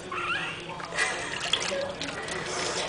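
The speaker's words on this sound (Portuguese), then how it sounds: "Que banho bom, Pig!" Water runs steadily during a pig's bath, making a continuous close splashing rush while someone speaks over it.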